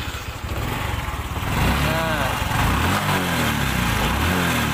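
A Honda Revo X FI motorcycle engine with a worn cam chain idles nearby with a rough, rattling mechanical clatter, steady and loud throughout.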